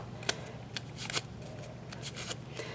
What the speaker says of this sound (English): we're going to take our bone folder and curl them down.